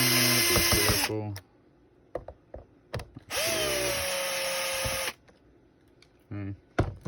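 A power drill whirs in two loud bursts while pulling two screws from a truck-simulator shifter assembly, with softer handling clicks and brief speech in between.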